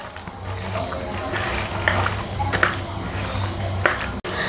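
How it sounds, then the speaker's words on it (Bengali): Wet squelching and squishing from chicken pieces being hand-mixed with salt, black pepper and a paste of onion, garlic, ginger and green chili, a steady soft kneading with small clicks and no voices. "স্বাদ অনুযায়ী লবণ, পরিমাণ মতো গোলমরিচের গুঁড়ো আর যে পেঁয়াজ, রসুন, আদা আর কাঁচা লঙ্কার পেস্ট, সব কিছু ভালো করে হাত দিয়ে মেখে নেব।"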